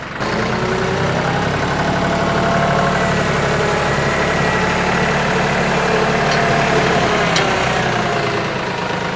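Tractor with a backhoe attachment running steadily while being loaded onto a dump trailer, a loud close diesel engine drone holding a constant throb with faint clicks, no voices.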